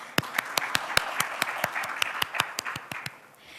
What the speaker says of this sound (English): A huge round of applause for AAPI.